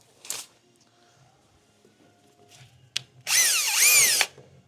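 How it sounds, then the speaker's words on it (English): A power drill whirs loudly for about a second, its pitch dipping and rising, after a few short knocks and clatters. "Now if you're not careful with your cable as you're drilling, it'll all twist"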